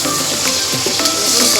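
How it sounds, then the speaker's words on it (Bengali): Paneer frying in a hot pan, giving a loud, continuous close-up sizzle with a steady hiss and faint crackles throughout. No one speaks. "পনিরটা একটু হালকা করে ভেজে নেবো"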